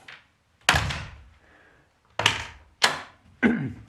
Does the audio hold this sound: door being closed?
yes